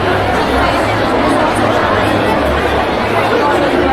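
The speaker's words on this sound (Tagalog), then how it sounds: "Medyo may commotion sa pagkuha ng ID, pero we'll get there." Steady crowd chatter and babble at an event ID pickup line during the Athena Pantheon 2025 kickoff, a close, continuous hubbub of many voices with no single sound standing out.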